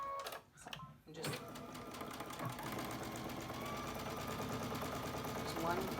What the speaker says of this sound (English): you're just going to sew along this edge and this edge